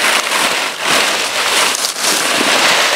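A broom sweeps thick, rain-soaked leaves off a camp roof in repeated rough, scratchy strokes, close and loud with no talking.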